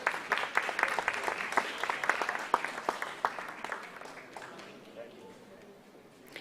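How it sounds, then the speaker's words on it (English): Audience applause at an eye donation fortnight award ceremony, crisp rapid clapping that builds then thins out and fades by the end, with some voices faintly beneath. "So please give them a huge round of applause."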